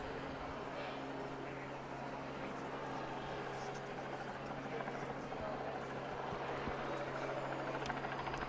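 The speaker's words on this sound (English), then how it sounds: "You mentioned a helicopter hovering over us." Helicopter hovering overhead at a harness racing fair in Wauseon, Ohio, a steady low droning rotor hum running throughout, with voices and crowd noise mixed in.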